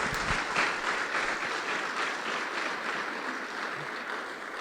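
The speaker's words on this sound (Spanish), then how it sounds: "Démosle fuerte las palmas al Señor." A church congregation claps loudly and steadily in praise, a dense wash of applause filling the room with little else heard.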